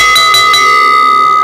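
A small brass puja hand bell, hung on a finger during a Satyanarayan katha, rings with a few quick strikes and then a bright, sustained metallic tone that hangs on loudly and evenly.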